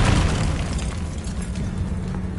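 A Confringo blast spell explodes in Hogwarts Legacy, a loud, close burst opening with a heavy boom and fading into a dense rumbling, crackling tail with no speech.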